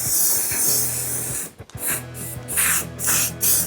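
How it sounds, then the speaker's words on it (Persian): A spray paint can coats a part of a Honda CBR motorcycle, first with a long, close, hissing spray, then several shorter bursts after a brief pause. "یک اسپری نو ما کامل رنگش کردیم"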